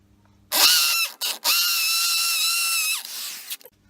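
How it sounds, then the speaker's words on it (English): Screw driver driving screws into a wall while building a double table saw bench, close whirring bursts with short stops and a winding-down pitch at the end. "Then we screw these super duper screws in."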